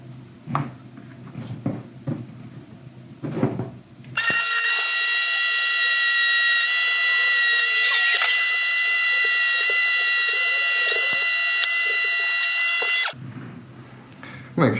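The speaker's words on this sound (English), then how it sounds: "Let's drill those through." A power drill whines steadily for about nine seconds drilling holes through a homemade respirator face mask, loud and close, with brief handling noises and taps before and after.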